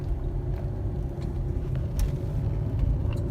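A 2010 Chrysler 300 cruising on the highway at about the speed limit, warmed up after 40 minutes of driving, with a steady low engine drone and road rumble filling the cabin, continuous and moderately loud, with no talking.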